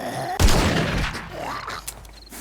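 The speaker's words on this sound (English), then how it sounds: "I'm just gonna shoot you, bro." Gunfire in the survival video game 7 Days to Die, a loud booming shot that hits hard and then rolls off into a long decaying tail, standing alone without talk.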